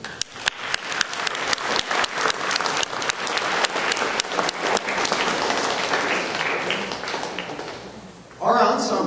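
A crowd applauding parents at a band concert, loud sustained clapping across the hall that fades out, then a voice begins speaking at the end.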